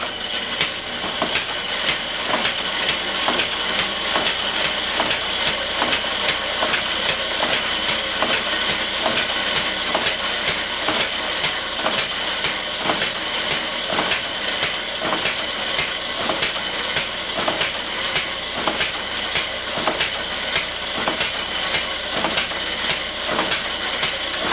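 A boot testing machine runs at full speed, giving a loud, steady mechanical hiss and churn with a fast, regular clicking rhythm that continues throughout, with no talking.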